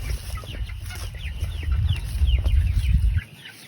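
Three-week-old meat chickens cluck and chirp steadily in a crowded pen, a dense flock murmur with repeated short calls, close and fairly loud, ending abruptly.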